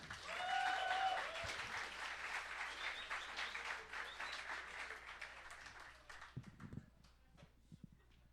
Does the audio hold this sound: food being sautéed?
no